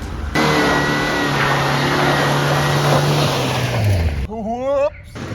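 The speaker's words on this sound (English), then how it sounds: "This motor sounds pretty solid for sitting since 2009." A 1983 Plymouth Turismo engine, after sitting unused since 2009, runs with a steady idle rumble and a rise and fall in revs, close and fairly loud; a voice briefly cuts in near the end.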